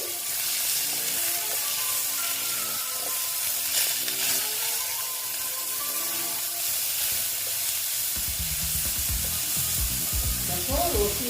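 Grated onion frying in a pan for an egg dish, a continuous close hissing sizzle with occasional stirring sounds, and a brief bit of faint background voice near the end.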